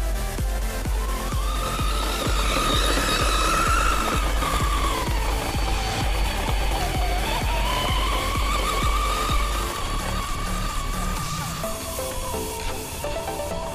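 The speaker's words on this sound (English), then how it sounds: "I'm gonna drive the car from where it's at there to the ramp in order to get a distance." A car engine drones steadily as it drives back toward a ramp, with a wavering tone as the engine speed rises and falls and faint tire noise, loud and continuous throughout.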